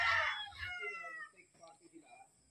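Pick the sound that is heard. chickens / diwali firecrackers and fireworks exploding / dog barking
chickens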